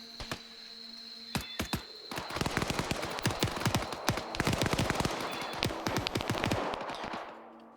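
Rapid bursts of automatic gunfire in the Arma video game, single cracks giving way to dense machine-gun volleys that rattle on at moderate distance, alone without talk.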